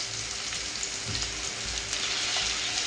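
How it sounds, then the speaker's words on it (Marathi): Curry leaves and ginger-garlic paste sizzle in hot oil for a spicy surmai fish curry, a steady, close, crackling hiss with no talking. "कढीपत्ता टाकून घेऊया आपण"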